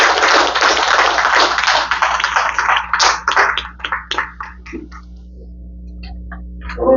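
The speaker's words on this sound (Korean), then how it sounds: "먼저 뜨거운 박수로 환영해 주시기 바라겠습니다" An audience at a lecture claps to welcome a speaker to the stage: full, dense applause at first, thinning into scattered individual claps that trail off into quiet room tone.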